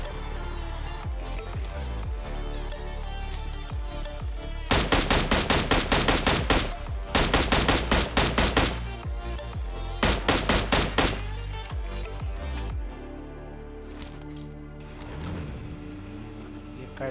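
Rapid automatic gunfire in the PUBG Mobile first-person squad match comes in three dense bursts over steady background game sound, loud and close, with a few scattered shots later.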